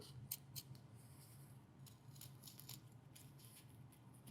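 Scissors snip through a paper applique pattern traced from a colouring book, a quiet run of short crisp cuts alone at close range.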